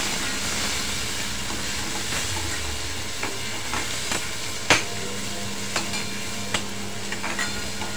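Chopped tomato cooking in a pan for spicy farsan bhaji, a steady sizzle and hiss running throughout with a few soft clinks of a spoon stirring, close and continuous with no talk.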